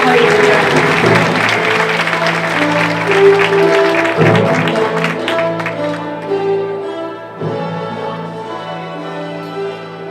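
Applause from the audience at a Miami Dade College student film awards ceremony, full and close at first, then thinning and fading as the clapping winds down, with a music-like tonal hum lingering underneath.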